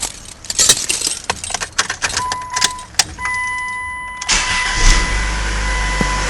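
Keys jangle and click for a few seconds, then a Plymouth Breeze car engine cranks and starts, settling into a steady idle close by during a radiator flush.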